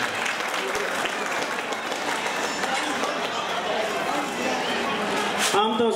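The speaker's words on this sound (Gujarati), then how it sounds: "પૂંજીબેનને જોરદાર તાળીઓથી વધાવો" A crowd at a community get-together in Badargadh breaks into sustained, loud clapping for an honoured woman, a dense even roar of hands with voices mixed in near the end.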